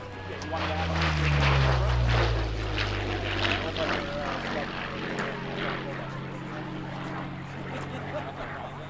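A P-40 Warhawk fighter with an inline liquid-cooled V12 engine flies past at an air show, its propeller drone loud and swelling near the start before fading into a steady distant hum.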